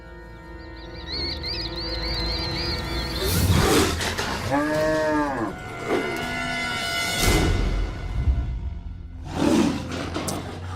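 An animated cartoon tiger, hunting a cow in a Little Krishna episode, lets out several drawn-out roars and growls. They are loud and close, mixed with a lowing animal call and a sustained tonal sound, with no talking.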